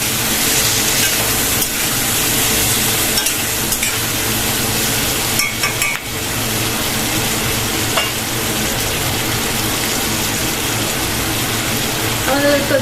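Onion and capsicum frying with spices for chilli chicken, a steady loud sizzle and hiss with occasional stirring scrapes in the pan, running continuously throughout.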